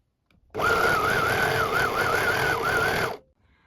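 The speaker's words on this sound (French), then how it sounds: "Et maintenant, vous allez surfiler tout le bas de vos parmentures." A sewing machine overcasts the lower edges of front and back facings for a top, running loud and steady in one continuous burst of about two and a half seconds before stopping.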